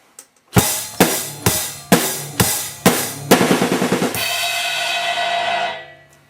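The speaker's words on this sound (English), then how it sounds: "what a 16th note snare drum fill would be like" Six evenly spaced snare hits lead into a rapid 16th-note snare drum fill, then a crash cymbal rings out and sustains loudly.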